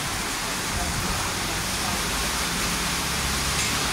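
Steady rain pours down at a mechanic's workshop where work carries on, a dense, continuous hiss filling the space for the whole stretch with some low rumble beneath.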